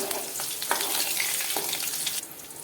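Asafoetida, curry leaves and green chili pieces sauté in a pan with a steady bright sizzle, and a few stirring scrapes come through close up.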